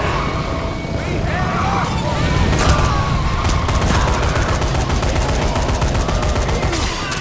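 Rapid gunfire from the zombie video game Dead Rising 3, a steady stream of loud shots and bursts filling the clip, with a player's voice talking over the game action.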